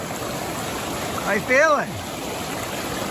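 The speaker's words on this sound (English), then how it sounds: "we're surprised at how much water is flowing down here" A steady rush of mountain stream water flows throughout on a hike in the Wallowas, with brief talking and a short cheer over the constant broadband wash.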